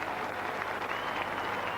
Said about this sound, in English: They're getting a very good round of applause.